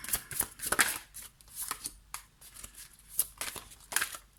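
Tarot cards handled and shuffled during a reading, close and crisp: quick irregular flutters, taps and slaps of card stock, with short gaps between bursts.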